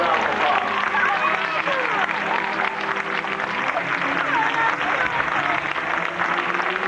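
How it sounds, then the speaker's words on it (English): An audience gives a round of applause during a live stage magic act, steady, sustained clapping with crowd noise throughout and no clear breaks. "A nice round of applause"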